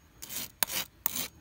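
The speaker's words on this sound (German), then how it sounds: "ansonsten gehe ich manchmal noch mit einem Schleifstein, kann ich hier noch so drüber gehen" A whetstone is drawn over a blade used for splitting firewood, giving three raspy rubbing strokes with sharp scraping onsets, close and distinct, with no talk.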